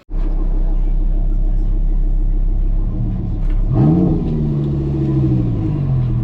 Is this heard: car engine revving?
yes